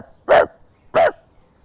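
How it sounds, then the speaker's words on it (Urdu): A cartoon dog barking twice in a children's animated story, two loud, clean, evenly spaced barks with silence between them. "کتا گائے کی یہ بات سن کر اور زیادہ غرانے لگا۔"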